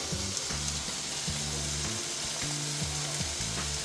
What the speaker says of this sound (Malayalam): കുറച്ച് ഗരം മസാലയും കറിവേപ്പിലയും ഇട്ടിട്ട് അവസാനം ഇളക്കി എടുക്കുക നല്ലതായിട്ട്